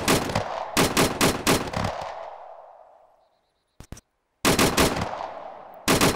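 Bursts of automatic gunfire in ARMA 3 come in rapid volleys that cut off and leave a fading echo, then a short gap, a couple of isolated shots and another loud burst. No one speaks.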